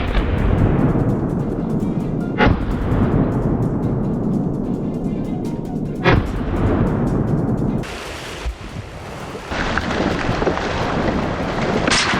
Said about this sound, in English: I raised my rifle and pulled the trigger. The first shot rang out